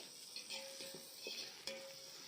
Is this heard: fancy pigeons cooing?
no